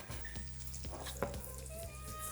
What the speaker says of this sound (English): you can see it's starting to sizzle slightly